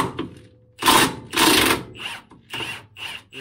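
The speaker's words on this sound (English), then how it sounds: "So I'm gonna put the impact on this one, get that one loosened off" Short bursts from an impact wrench loosen a transmission mount bolt on a Jeep JKU with a NAG1 transmission, rattling in several distinct hammering spurts separated by brief pauses, close and loud.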